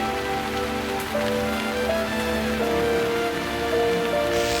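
Steady rain falls without pause in a PC adventure game, a dense hiss of drops on a hard surface, with soft electronic tones humming underneath.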